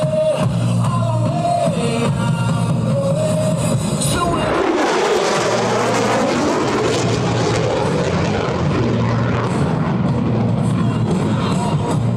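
An F-35A Lightning II fighter jet roars past on a high-speed pass at an airshow, its engine noise swelling into a loud, rushing thunder that lingers as the jet moves away, with a crowd faintly behind.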